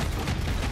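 Gunfire in Helldivers II, a brief, dense burst of loud, close shots packed tightly together.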